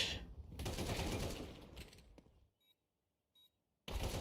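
Rapid burst of pistol gunfire in a competitive video game match, a dense crackling volley lasting about two seconds, followed by silence with a couple of faint beeps, then another loud burst at the end.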